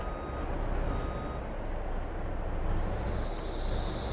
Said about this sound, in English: Pick up this old beast of a truck here.